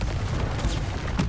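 A Confringo spell blast goes off in the video game Hogwarts Legacy, a short, dense, loud burst of explosive noise lasting barely more than a second.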